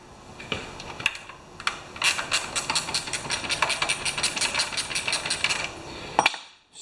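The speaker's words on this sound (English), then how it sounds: "I'm going to use a 1/2 inch ratchet wrench" A 1/2 inch ratchet wrench clicks rapidly while removing the fuel bowl from the carburetor of a Briggs and Stratton 7HP engine on a pressure washer, a steady run of close, crisp ratcheting clicks after a few scattered knocks.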